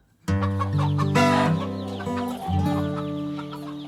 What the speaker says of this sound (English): This episode starts in the Waikato, on a poultry farm owned by Inghams Chicken.